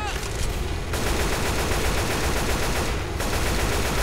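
Dense, continuous automatic gunfire from the zombie shooter Left 4 Dead, a rapid loud rattle of shots filling the whole stretch with only brief shifts in texture, no voices over it.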